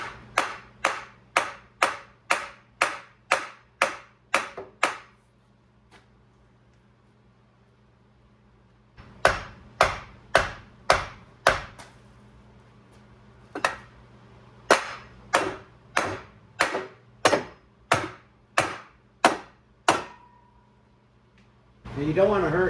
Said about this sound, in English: Let's grab a hammer now.